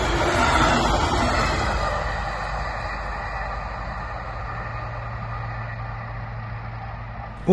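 An Alex passenger train in Bavaria passes with a steady, broad rumble that slowly fades over several seconds. It is heard at moderate distance with no talking.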